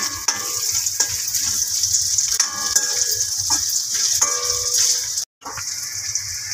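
Potatoes frying with onion in a pan for a cabbage masala dish, a loud steady sizzle with occasional stirring clinks and a sudden brief cut near the end, no speech.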